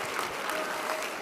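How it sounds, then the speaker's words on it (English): Steady applause from a crowd, dense and continuous throughout, moderately loud with no speech over it. "give yourselves a round of applause"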